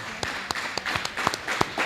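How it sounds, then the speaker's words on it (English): Audience applause for a woman honored for her community work, a moderate patter of claps with separate sharp hand strikes, steady throughout and without talk. "let's give her a round of applause"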